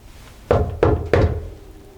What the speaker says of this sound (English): I'm gonna knock on the wall real quick.